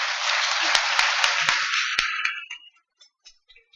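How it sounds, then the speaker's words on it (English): A round of applause for debate participants at a conference hall, a crowd clapping steadily for about two seconds with a few sharp isolated claps, then tapering off to scattered last claps and quiet. "Can we give them another round of applause?"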